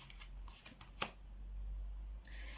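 Tarot cards being shuffled to draw a card, a run of quick papery riffles and flicks followed by a soft slap as one card comes down, close and fairly quiet with no talk.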